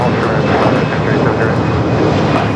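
Aircraft engines roar steadily at LAX on the 25 right runway during takeoff clearance, a loud continuous rumble filling the whole stretch with no pauses.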